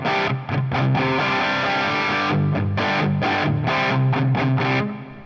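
A distorted electric guitar played through an amp modeller plays a steady sequence of chords and notes with a roomy reverb tail, loud and continuous with no voices.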